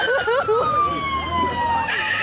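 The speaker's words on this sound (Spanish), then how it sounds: "¡La ambulancia!" An ambulance siren at a street protest wails and yelps in rising and falling sweeps, loud and close, over shouting voices and crowd noise.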